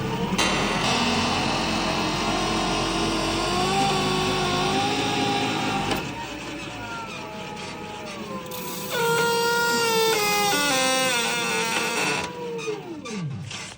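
An electric hydraulic sugarcane grabber runs steadily, its pump motor giving a loud, continuous whine whose pitch rises and falls and bends as the load changes, with a brief dip midway and a sharper, higher stretch near the end.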